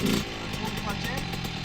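A Yamaha YZ65 dirt bike engine runs with a steady buzzing drone throughout, rising slightly as the clutch is let out, close and continuous, with a voice talking over it.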